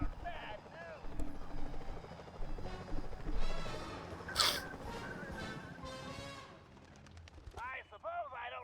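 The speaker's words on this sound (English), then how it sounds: "Those security choppers are bad news." Security helicopters in the Sly Cooper: Thieves in Time video game whir steadily with rotor chop, mixed with bursts of gunfire and game music, and speech runs over the top.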